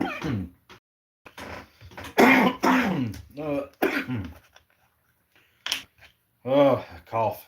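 Several harsh throaty coughs and throat-clearing sounds come in uneven bursts up close, separated by short pauses and strained vocal noises.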